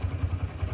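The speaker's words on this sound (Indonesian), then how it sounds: "Ketika gas langsung jreng, terus suaranya di knalpot akan ketangkap" A Honda GL motorcycle's exhaust burbles as the throttle is blipped, producing a quick low pulsing throb with a slight rhythmic rise, heard close and fairly quiet.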